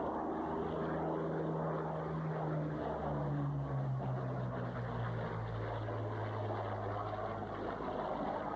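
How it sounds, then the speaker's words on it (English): An RAF Hawker Hurricane, a vintage propeller fighter, flies past with a steady, droning piston engine roar, moderately distant, its pitch sliding lower as it passes, and no talking. "the RAF sends its Hurricane, one of three left flying in the world"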